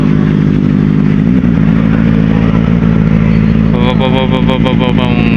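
A motorcycle engine revs loudly among other vehicles at a dock exit, a steady engine drone with harmonic rises and a louder whining burst near the end, with a voice talking over it.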